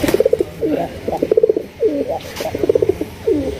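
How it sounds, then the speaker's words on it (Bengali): A pair of colourful Rajgolla pigeons coo close by, repeated throaty rolling coos in short bursts, loud and alone. "চমৎকার এক জোড়া কালারিং রাজগোল্লা কবুতর আপনারা দেখতেই পাচ্ছেন"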